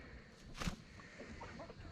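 A rooster on a small farm lets out a single short cluck or squawk near the start, close by, with faint farmyard ambience around it.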